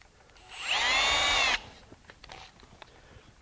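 An electric drill holding a step reamer bit for 1/2-inch steel spins up loudly for about a second with a rising whine, then cuts off, leaving faint handling clicks and quiet shop noise.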